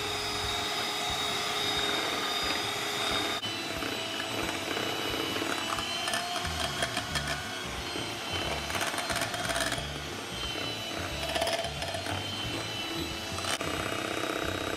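An electric hand mixer beats chocolate muffin batter with cocoa powder, whirring loudly and continuously up close. The pitch and grind shift as the beaters move through the thick mixture, with occasional rattling bursts and no voices.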